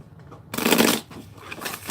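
Chakra oracle cards shuffled by hand, a quick loud riffle burst of papery flutter lasting about half a second, then softer rustling card handling continuing alone.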